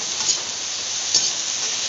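A papaya flower dish sizzles in a hot pan while being stirred, a steady close frying hiss with a couple of soft scraping stirs.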